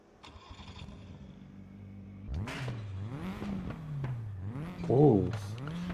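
A Tatus open-wheel race car engine in the RaceRoom racing game. It revs and rises from about two seconds in through repeated upshifts and pitch sweeps, loud and close, with a sharper peak near five seconds.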